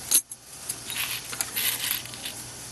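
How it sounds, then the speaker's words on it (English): Silver bullion rounds, including Monarch 1-gram pieces, clink and jingle together in light, bright metallic taps, a sharp clack first, then a scattered patter of small coin-like chimes. "And of course they have the nice silvery sound to them."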